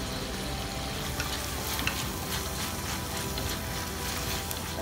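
Onion, garlic and curry leaves fry in hot oil for Thrissur-style kolli upperi, giving a low, even sizzle with faint scraping from stirring, quiet and unbroken.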